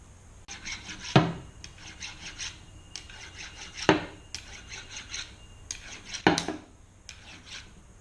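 Burrs are filed off a metal part of a Land Rover Freelander prop shaft, in repeated close rasping strokes broken by three sharp metallic knocks, moderately loud with no voices.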